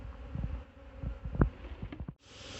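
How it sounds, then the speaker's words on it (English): Honey bees buzzing inside a tub during a hive inspection, a faint, close droning hum with a few louder bumps and handling thuds, then a brief hiss at the end. "We got a bunch of bees in the tub here."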